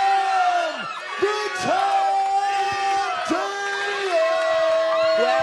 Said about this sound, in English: the crowd for the blue team has been very loud. They are cheering Dino.